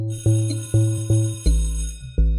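A bell rings in about five bright, repeated strikes with long sustained tones, close and clear, like a phone ringtone, with no voices.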